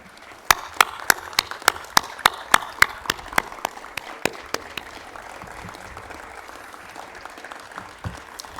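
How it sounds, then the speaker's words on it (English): Applause at the CTEC technical education center ribbon cutting ceremony comes as a run of sharp, separate claps close to the microphone, thinning out after a few seconds into a faint murmur of the gathered crowd. "he deserves a big round of applause, a standing ovation for Dr. Brads"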